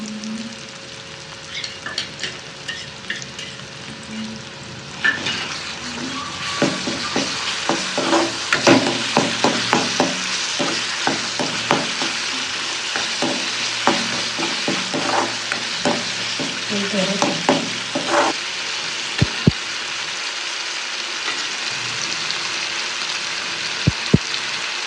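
Ground masala paste sizzling in a hot pan for mutton paya curry, with continuous frying hiss broken by frequent scraping stir strokes and spatters, settling to a quieter simmer near the end.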